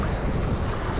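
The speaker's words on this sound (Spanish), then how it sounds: "Mira qué ola." Ocean waves roll and wash steadily onto a Caribbean beach, a loud broadband surf roar with wind buffeting the microphone.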